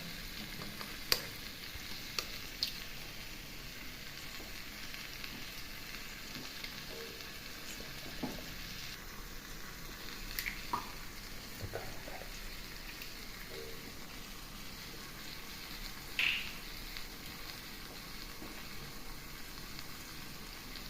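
An egg cracked into a pan and frying, a faint steady crackle and hiss with occasional soft clicks and scrapes of stirring, quiet and distant throughout.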